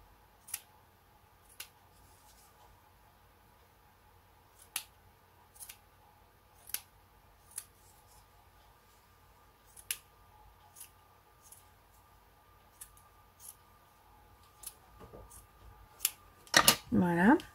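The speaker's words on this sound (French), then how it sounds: "On vient couper autour." Scissors cutting around lace trim glued onto a hat: sparse, sharp snips spaced a second or two apart over quiet room tone, ending in a louder burst of rustling handling.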